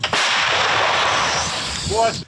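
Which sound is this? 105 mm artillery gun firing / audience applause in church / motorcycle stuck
105 mm artillery gun firing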